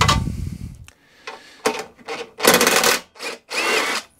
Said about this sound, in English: So one bolt there to take off.